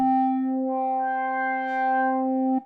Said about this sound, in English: just a sine wave that gains more and more harmonics over time in this wavetable